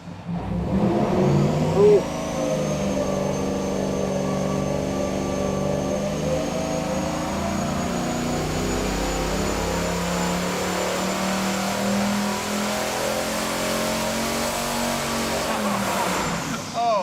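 A turbocharged engine, hoped to make 600 horsepower on its short block, roars on a dyno in one long sustained pull with a steadily rising whine, loud and continuous from start to finish.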